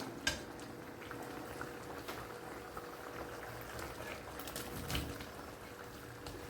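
Babycorn pepper fry gravy bubbling and thickening in a pan, a faint, low simmering burble with occasional small clinks of a spoon or pot, no talking.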